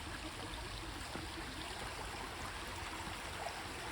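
Steady rushing of a flowing stream, a continuous broadband wash of water with faint trickling detail and no voices.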